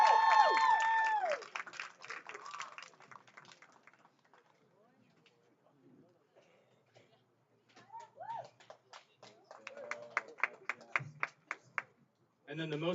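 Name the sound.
applause for a no-hitter at baseball championship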